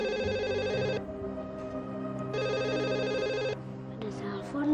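A telephone rings indoors in a home, two long trilling bursts separated by a pause, fairly clear, with background music and voices underneath.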